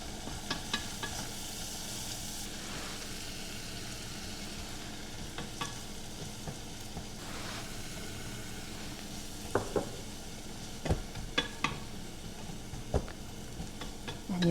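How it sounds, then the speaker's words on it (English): Vegetables sizzle steadily in butter in a pan while being stirred, a continuous close frying hiss broken by scraping stirs and a few sharp utensil clinks toward the end, with no talking. "We'll need to cook the veggies in the butter for just a little bit to kind of soften them up a bit."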